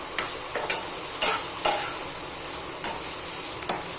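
Paneer bhurji crumbled and stirred in a pan: light sizzling hiss runs throughout, broken by scattered scraping clicks of the spoon against the pan. Close, with no voices.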